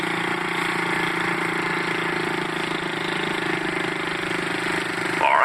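Steady motorcycle engine hum with harmonic bands, running continuously and fairly loud throughout, heard from a rider's perspective in traffic as it pulls through the gears, with a brief rise near the end.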